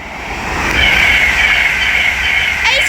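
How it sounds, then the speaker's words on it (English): An LNER 225 set, class 82 and 91 locomotives, passes through Hitchin on the East Coast Main Line, a swelling rumble with a high metallic whine and rail clatter, loud and close, fading slightly toward the end. "right there is an LNER 225 set working a service from"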